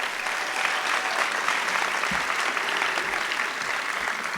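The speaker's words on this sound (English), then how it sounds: "they deserve one more round of applause" Audience applause after a Panchari Melam arangettam, a traditional Kerala percussion debut performance; dense, even clapping from a large crowd sustained for several seconds.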